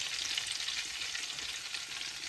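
Garlic frying in a pan for brown stew snapper gives a bright, continuous hiss of sizzling oil, steady and close, with no talking.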